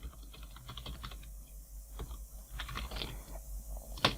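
Keys clatter on a computer keyboard while a virtual machine command is typed, with uneven bursts of clicks and short pauses before a louder final keystroke, close and alone.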